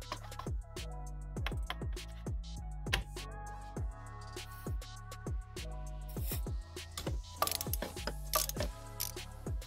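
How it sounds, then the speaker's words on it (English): A hand ratchet clicks in quick repeated runs while the EGR supply pipe is removed from a VW Passat B7 2.0 TDI engine, close and fairly quiet, with short pauses between strokes. "Now remove the EGR supply pipe."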